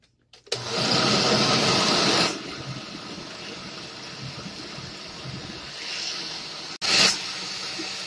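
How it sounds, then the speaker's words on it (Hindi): A kitchen blender whirs loudly, pureeing strawberries for a strawberry cake batter, a steady motor roar that drops to a lower hum, then briefly surges again near the end. "ये देखें हमने इसमें स्ट्रॉबेरी भी डाल ली है तो हम इसको फिर से ब्लेंड करेंगे"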